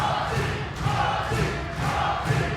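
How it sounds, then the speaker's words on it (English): A large wrestling crowd in Philadelphia roars and chants during a women's title match, a dense sustained wall of voices swelling in repeated rhythmic surges, loud and close throughout. "Crowd getting fired up for the 19-year-old here in Philadelphia."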